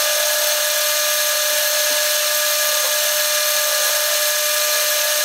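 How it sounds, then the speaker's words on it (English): A lathe facing the flat end of a metal rod while building a Grom motorcycle steering stem, giving a steady, loud high-pitched machining whine that runs evenly throughout with no talking. "I'm gonna go ahead and face this end here of the rod"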